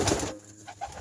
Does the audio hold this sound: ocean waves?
no